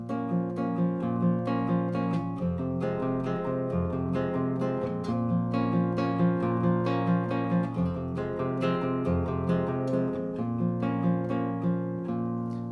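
A guitar plays, sounding clear, rhythmic strummed and plucked chords at a moderate level, unaccompanied and with no voice over it.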